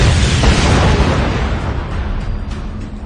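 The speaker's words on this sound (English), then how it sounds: "Arming 2 frag grenades, he pitched them into the hole and pulled back." Frag grenades detonate in a confined hole, giving a loud, close, sustained roaring blast that slowly decays over a few seconds with no voices.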